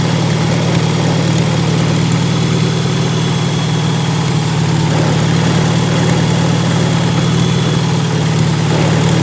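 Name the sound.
Super A tractor engine idling, clutch disengaging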